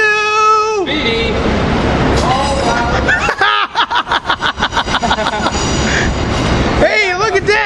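An Amtrak Silver Meteor, train 97, pulls in behind an ACS-64 electric locomotive: a loud horn blast opens, then a steady run of rhythmic wheel clatter passes close by, with voices talking over parts of it.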